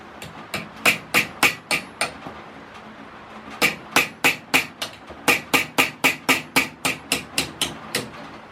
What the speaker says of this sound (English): we need a punch and a hammer